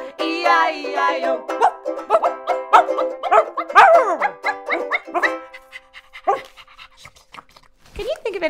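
A voice imitates a dog's barking and panting, with a string of sung woof-like yelps in a lively rhythm, close and loud.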